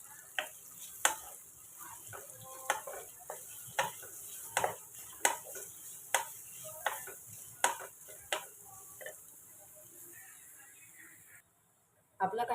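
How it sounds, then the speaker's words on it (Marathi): Onion frying until golden in a pan, a low steady sizzle broken by regular sharp taps of a spoon or spatula against the pan about every second, fading to near silence at the end. "कांदा सुद्धा चांगला गोल्डन भाजून घ्यायचा आहे."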